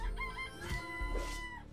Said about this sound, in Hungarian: Kakasszóra.